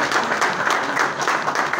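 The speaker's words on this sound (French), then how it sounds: "applaudis très très fort" Audience applause in a formal hall as a report is handed over, a steady dense wash of clapping that holds at an even level for the whole stretch, with no talk over it.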